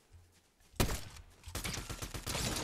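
Rapid gunfire erupts in a Fortnite Zero Build match: a sharp opening shot, then sustained bursts of automatic fire crackling steadily through the rest of the moment, fairly distant and fast-paced.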